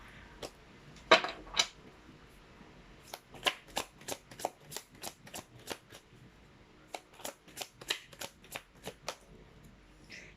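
A tarot deck being handled and shuffled: soft riffling and a crisp flutter, followed by a long series of quick, evenly spaced card snaps and flicks, close and quiet with no voices.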